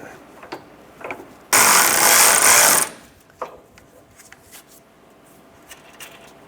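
A power tool runs a control arm bolt down on a 2008-2012 Honda Accord, giving one loud, steady burst of about a second and a half, followed by faint clicks and handling noises.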